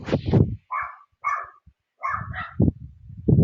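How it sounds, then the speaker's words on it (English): Several dogs bark indoors nearby in short bursts of loud yaps with brief pauses between, a few clustered barks overlapping near the middle. "I'm so sorry for the dogs. I cannot control that."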